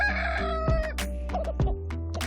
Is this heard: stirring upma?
no